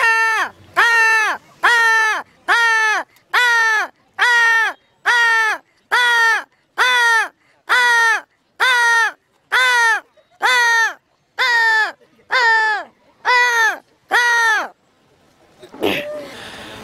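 A man imitates crows cawing with his voice, giving a long run of about fifteen loud, evenly spaced harsh caws, followed by a short noisy burst at the end.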